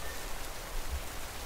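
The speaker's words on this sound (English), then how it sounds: "But it's raining." Steady rain falls as an even, continuous hiss with a low rumble underneath, with no talk and no distinct drops standing out.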